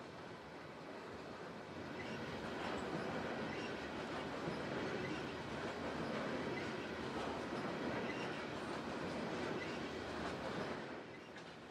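A Canadian National freight train of new grain hoppers rolls steadily past at close range in the Mississippi Delta, a continuous heavy rumble with rattling cars and faint wheel clatter throughout, no voices.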